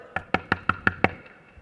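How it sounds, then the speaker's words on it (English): Six sharp knocks at a door, evenly spaced and close, rapping in a quick steady rhythm with nothing else heard. "you hear a knock at the door."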